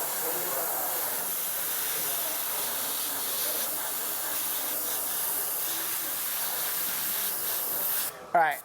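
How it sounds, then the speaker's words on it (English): An airbrush blows a continuous airy hiss over wet paint to dry it quickly, steady and close, ending with a brief burst of clatter and a rising squeak near the end. "So I can just spray it on there, kind of get those areas to dry really quickly"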